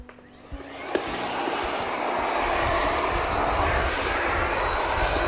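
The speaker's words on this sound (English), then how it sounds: "Once the brush is clicked into position, you can start vacuuming." A Miele Complete C3 cylinder vacuum cleaner with a parquet brush starts up after a click and settles into a loud, steady whooshing roar.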